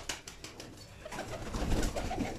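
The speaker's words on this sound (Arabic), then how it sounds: "طلق الحمام الاخر يخرج كامل" Pigeons cooing in a loft or coop, soft repeated coos building in the second half of the clip with light background rustling and no talk.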